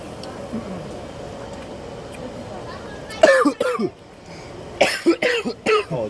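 A man coughs and clears his throat after eating hot, spicy boiled crawfish, a few sharp close coughs in short bursts following a quiet stretch, with some talk mixed in.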